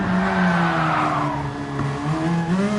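A race car engine in a racing game holds a steady, droning tone with slight pitch wavering as it drives, loud and close with no talk over it.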